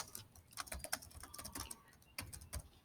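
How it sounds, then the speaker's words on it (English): Rapid clicking keystrokes on a computer keyboard, close and fairly quiet, coming in uneven bursts with brief pauses, with no talking over them. "so before I typed this"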